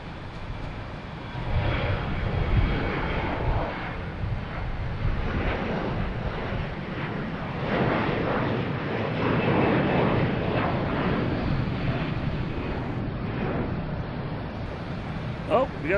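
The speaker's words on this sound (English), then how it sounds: "we got that American 777 that goes to London Heathrow. Heading back out to the runways" American Airlines Boeing 777 bound for London Heathrow taxiing out toward the runways at Boston Logan, a steady broad engine rumble with wind noise holding throughout, moderately near.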